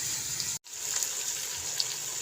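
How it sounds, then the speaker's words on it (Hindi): Water pours from a mug into frying aloo keema cooked with ghee, a steady gushing hiss with a short break, then bubbling sizzle. "अब इसमें डाल देते हैं पानी, वही मग मैंने जो पहले पानी का डाला था।"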